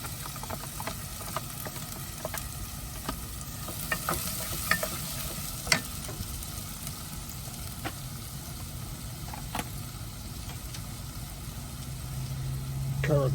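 Garlic is chucked into a hot pan for mulligatawny and stirred, a low steady sizzle with scattered clicks and scrapes of the spoon against the pan, building slightly at the end.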